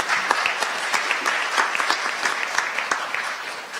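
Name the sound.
audience applause at mayoral debate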